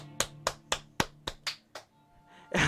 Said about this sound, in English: Yay. Clap.